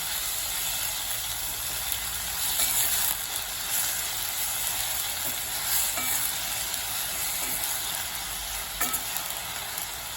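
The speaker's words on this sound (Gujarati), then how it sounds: "એને પણ આપણે સાતળી લઈશું।" Potato and spinach sabji sautés in a pan with a steady, loud sizzle, while a spoon scrapes and stirs now and then with soft clinks.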